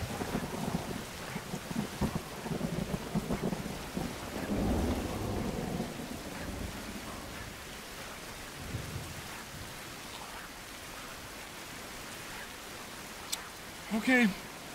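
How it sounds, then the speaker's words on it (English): Strong storm wind roars and rushes in a steady, dense wash of noise with gusty surges and what sounds like rain pattering. A voice talks briefly near the end. "This is what's going to get us is the strong wind."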